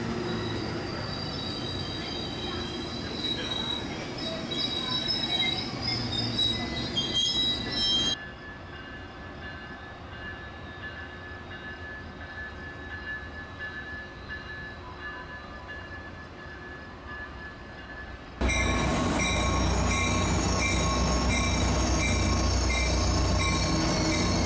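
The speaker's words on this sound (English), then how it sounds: "Amtrak 14 departs San Jose on its way to Seattle." An Amtrak train departing San Jose station, heard as a steady, loud rumble of rolling cars with high-pitched wheel squeal, then a softer passage before a louder, closer surge of wheel and rail noise near the end.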